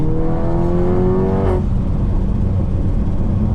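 A tuned 503 hp Škoda Superb 2.0 TSI drones loudly from the rear with the window open, its engine note climbing under load, then dropping sharply as the throttle lifts. A booming resonance is heard from inside the cabin.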